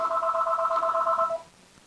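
A telephone gives off a steady electronic two-tone ring for over a second before cutting off, loud and close, with no talking over it.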